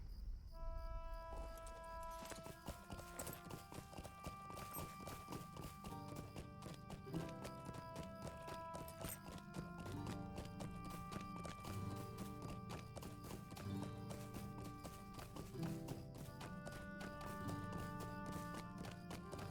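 Horse hooves clip-clop in a steady rhythm while riding through the North Downs in the video game LOTRO, a continuous close trotting patter layered over game music with melodic tones.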